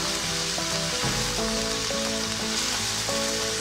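Adobong sitaw, string beans in adobo sauce, sizzling steadily in a pan, a continuous loud frying hiss with some faint tonal background sounds beneath.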